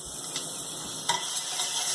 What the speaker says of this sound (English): sizzle up that garlic, and when it's minced real fine like that, it sizzles really quick